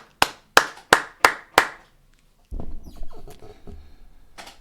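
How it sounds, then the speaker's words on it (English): Five sharp hand claps in a steady rhythm, close and loud, followed by a burst of scuffling and rustling noise. "Everybody up. Clap your hands."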